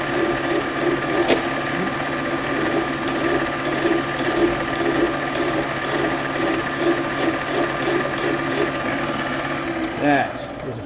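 Threading die cutting threads onto brass stock by hand, a steady faint ratcheting and grinding churn running throughout, with a brief sharp click near the start and another near the end.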